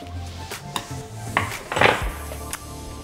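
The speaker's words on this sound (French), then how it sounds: "Alors je viens ouvrir ma peinture" A can of paint is pried open with a few metallic clicks and scrapes, then a louder pop as the lid comes loose, close and without talking.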